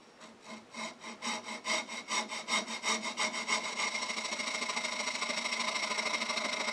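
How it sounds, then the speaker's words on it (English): Coping saw cutting wood, starting with slow, distinct rasping strokes that speed up into a fast, continuous sawing rhythm, close and fairly loud with no talk. "I think what I'm going to do is use a coping saw."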